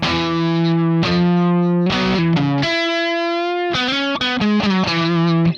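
Heavily distorted electric guitar playing a sustained melodic line with held notes, a high bend and quick note changes, loud and saturated, no voices.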